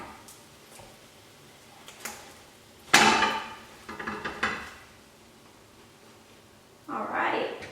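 An omelette is shaken in a pan and turned out onto a plate, giving a sharp clatter of the pan followed by shorter knocks and a final scraping slide, close by.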